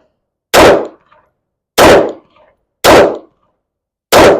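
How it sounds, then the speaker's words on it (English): Four loud, sharp Beretta M9 pistol shots fired at a steady pace about a second apart, each a sudden crack with a short decaying tail, no talking. "Shooting too fast, but it's hitting where I want it to."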